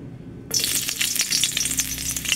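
Hot cooking oil sizzles in a pan, bursting suddenly into loud, crackling frying after a quiet start, then holding a steady dense hiss with sharp pops throughout.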